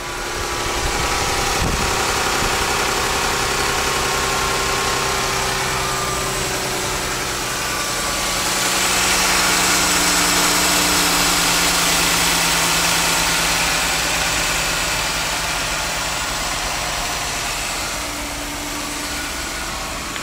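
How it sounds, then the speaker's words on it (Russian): A 2011-2012 Jeep Grand Cherokee engine idles steadily and close by for the whole stretch, a constant low hum that swells slightly midway, with no voices. "У этого автомобиля двигатель тоже работает."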